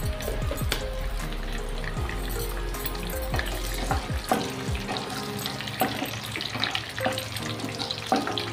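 Whole spices and cumin seeds crackling in hot oil in a kadai, a steady sizzle with scattered pops and clinks, while running water splashes in the background.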